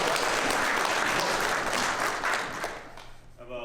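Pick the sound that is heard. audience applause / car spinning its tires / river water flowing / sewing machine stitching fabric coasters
audience applause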